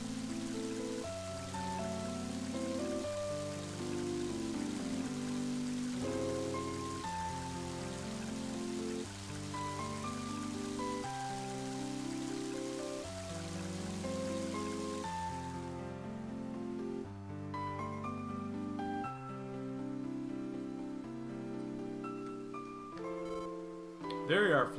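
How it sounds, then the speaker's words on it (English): Steady rain falls in the video game Mother 3, a continuous hiss running under loud melodic background music for the whole stretch. "And now it's starting to rain."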